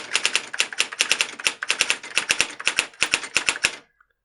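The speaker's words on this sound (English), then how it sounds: "I'm just going to type the quick brown fox jumps over the lazy dog." Rapid, irregular keystrokes clack on a mechanical typewriter, a close, crisp burst of strikes typing a sentence for nearly four seconds before stopping abruptly.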